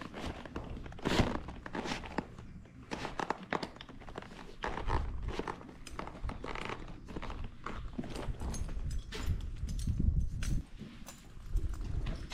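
Horse hooves clop and thunk on the ground at a barn, a busy, irregular run of close knocks and shuffling steps that continues steadily for about twelve seconds.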